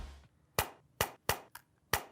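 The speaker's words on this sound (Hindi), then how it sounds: "देखते हैं क्लिकीनेस, खोल के देखते हैं इस केस को" A Nothing ear (1) earbud charging case has its lid flipped open and snapped shut: five sharp, close clicks spaced about a third of a second apart in a quiet room.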